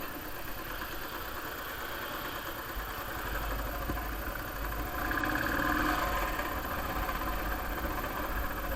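A motorcycle engine idles steadily at close range beside a crowded roadside parking area near a waterfall in Coorg, a constant low throbbing rumble that swells slightly louder midway.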